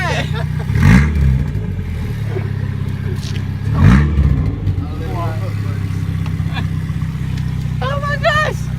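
A 1996 Chevy Cavalier engine with its exhaust removed revs loudly twice in sharp bursts, then idles with a rough, droning rumble while excited voices talk and exclaim nearby.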